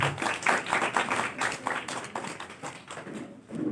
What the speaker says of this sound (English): Let's have a big clap for Master Ken Bom Time.